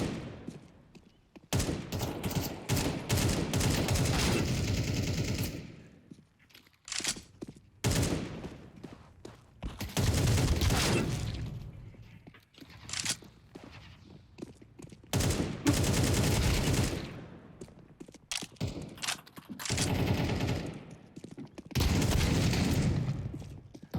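Counter-Strike 2 gunfire in bursts: rapid automatic rifle volleys and sharp single shots come in several loud clusters separated by brief quiet gaps, with faint game ambience between.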